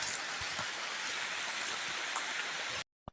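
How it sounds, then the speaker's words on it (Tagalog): Heavy rain pours steadily near a river, a dense continuous hiss of drops on surfaces, close and loud, before cutting off abruptly near the end. "Ang lakas ng ulan."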